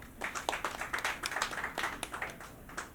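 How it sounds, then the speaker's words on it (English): A small comedy-club audience applauds in a short, fairly quiet patter of scattered hand claps lasting a few seconds. "Round of applause if you know how to build a fire."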